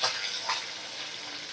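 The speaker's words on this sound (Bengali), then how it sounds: "আমি মাছগুলো এবারে উল্টে পাল্টে ভালো করে ভেজে নেব।" Fish pieces fry in hot oil as they are turned over in the pan, a soft, close sizzle that is fairly quiet, with a brief louder crackle near the start and another just after.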